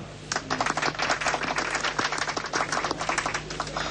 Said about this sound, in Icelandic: Við skulum gefa honum gott klapp.